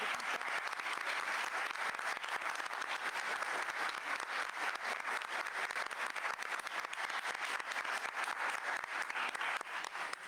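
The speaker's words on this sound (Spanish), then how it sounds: "Un aplauso, por favor," Audience applause at a book presentation in Mexico, a dense, steady wash of many hands clapping that holds at full strength without a break from start to finish.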